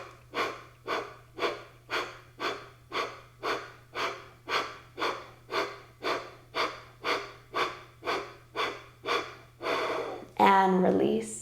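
Steady, even in-and-out breaths during an Utthapita lift in an Ashtanga yoga second-series practice, roughly twenty rhythmic cycles close to the microphone over a low hum, ending in a louder exhale.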